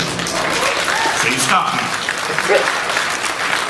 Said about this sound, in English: Your date is clapping.